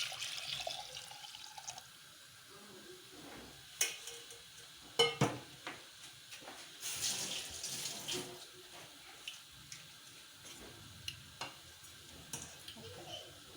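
Drained chicken stock is poured back into a pan while making chicken and vegetable soup: quiet splashing and sizzling liquid broken by a few sharp clinks of a utensil against the pan.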